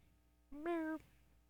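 Pet cat sitting in a lap gives a single short, clear meow, close and fairly quiet against a soft room background.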